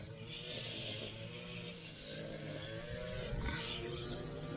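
A small two-stroke string trimmer engine drones steadily nearby, revving up slightly toward the end, with a buzzing whine throughout.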